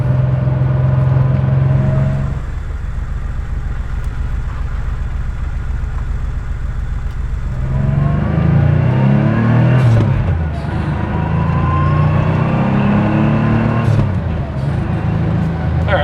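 An air-cooled Porsche revs out on a twisty road, its engine note rising and falling under a steady cabin drone, loud and close throughout with brief pitch sweeps as it accelerates.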